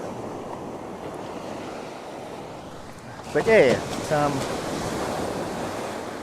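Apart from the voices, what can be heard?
ocean waves coming in on a beach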